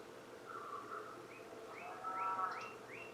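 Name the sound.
northern cardinal calls at bird feeder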